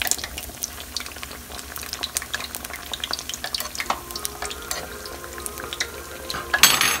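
Eggplant pakoras, battered brinjal fritters, fry in hot oil with a steady close sizzle and bubbling, broken by frequent light scrapes and clinks of a utensil turning them, with a louder clatter near the end.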